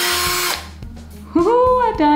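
A power drill bores a hole through a printer ink cartridge in one loud, harsh burst of about half a second, then stops, and a person speaks over a quieter background.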